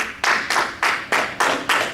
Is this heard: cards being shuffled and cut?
no